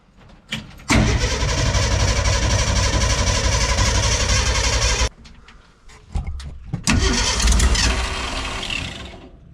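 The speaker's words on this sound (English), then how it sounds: "Let's crank this thing up and see what happens." A 1956 Ford Econoline, found sitting in a field, cranks briefly and then roars to life, its loud rough engine running steadily, cutting out, restarting after sputtering catches and idling on.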